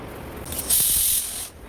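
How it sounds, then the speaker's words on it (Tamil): Pressure cooker on a stove cooking dal and rice lets out a loud, steady hissing whistle of steam lasting under a second, rising sharply and then cutting back to a softer hiss. "அதுக்கப்புறம் குக்கர் விசில் வந்துடுச்சு, அதை நம்ம இறக்கி வச்சிடலாம்."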